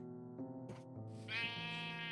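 Sheep in the video game Minecraft give a short, buzzy bleat followed by a longer, wavering one, loud and close over a faint background hum.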